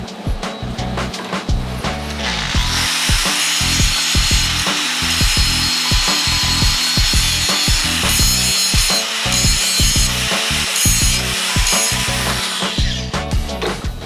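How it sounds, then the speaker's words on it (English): A tool works a wooden mosaic surface with 3M abrasive, a loud, close, rhythmic rasping in quick back-and-forth strokes with brief gaps between passes. "That 3M abrasive makes quick work of that."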